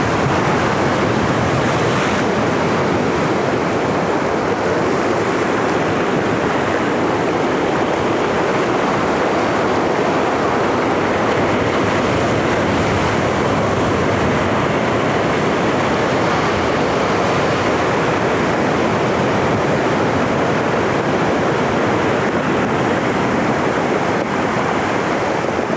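Ocean waves wash steadily onto the shore at the Santa Monica–Malibu coastline, a continuous broad roar of surf with wind noise and no talking.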